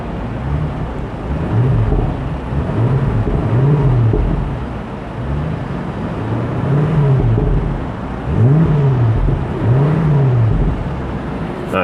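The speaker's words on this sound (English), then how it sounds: "All right, let's give it a couple of revs." A 2021 BMW X5 M Competition engine revs up several times in rising and falling bursts, loud and close, with the engine idling steadily between the blips.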